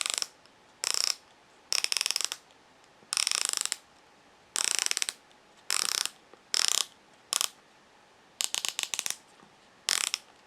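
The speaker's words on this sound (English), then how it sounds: "giving you a sense of the sound of the clicks" A Swatch Scuba Fifty Fathoms watch has its coin-edged bioceramic dive bezel turned in short bursts of rapid, crisp ratcheting clicks, close-up and bright, separated by quiet pauses over about ten seconds with no talking.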